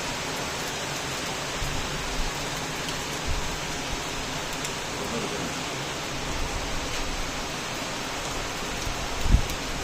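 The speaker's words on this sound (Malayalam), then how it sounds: "മഴ തുടങ്ങി" Steady rain hisses evenly across a forest, a dense wash of patter with a few faint low thumps and no voices.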